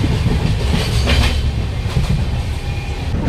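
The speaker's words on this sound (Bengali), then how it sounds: "ট্রেন ছাড়লো" A train pulls out of a station with a steady, loud rumble of rolling wheels and faint clickety-clack throughout, with no voices over it.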